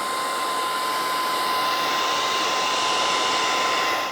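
Handheld hair dryer blowing steadily on a chalk-painted background, a loud, continuous close whoosh with an even high whine that runs unbroken for about four seconds before cutting off.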